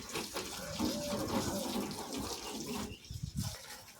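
Water runs and splashes steadily and close by as a car is washed outdoors, with the flow breaking into choppier splashes near the end.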